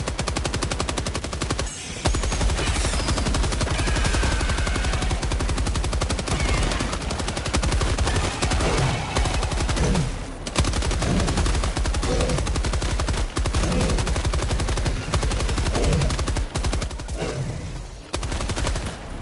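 Helldivers 2 gunfire pours out as sustained, loud rapid-fire bursts that run almost without a break, with dense rattling shots and brief pauses between volleys.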